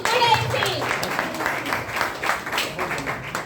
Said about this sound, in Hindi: जोरदार तालियां बजाइए भाई।